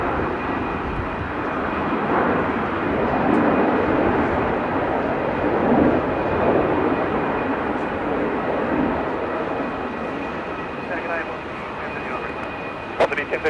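An Airbus A220 jet departing Melbourne Airport, a broad sustained engine roar holding steady throughout from a moderate distance, with a faint high whine on top and a few clicks near the end.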